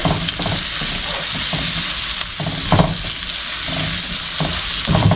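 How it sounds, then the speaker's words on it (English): Spam fries in a pan with kimchi juice for kimchi fried rice, giving a loud, steady close sizzle with a few scraping stirs, and no talking. "the Spam is getting nice and fried"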